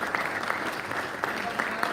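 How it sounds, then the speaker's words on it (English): Rotary meeting audience clapping for Jamie, a brief dense patter of many hands at moderate distance, continuous throughout with a few sharper claps poking out. "We all need to give Jamie a round of applause probably as well for her hard work."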